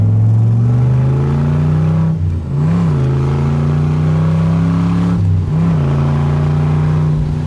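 A 1967 Chevrolet Corvette with a 427 cubic-inch V8 and four-speed runs loud and close, holding a steady rumbling tone with two quick throttle blips that swell and drop back.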